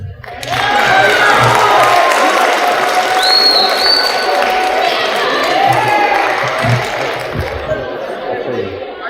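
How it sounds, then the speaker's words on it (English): An audience at a sophomore story slam gives a round of applause mixed with cheers and chatter, rising quickly and holding steady before tapering slightly. "give a round of applause for Gus."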